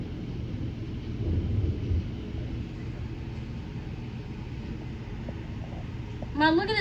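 A Tulsa thunderstorm with rain and gusty winds roars as a continuous broadband rumble of wind and rain, swelling in waves, with faint voices in the background and a brief higher noise near the end.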